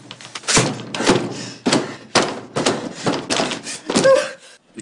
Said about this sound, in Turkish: kapıyı zorluyorlar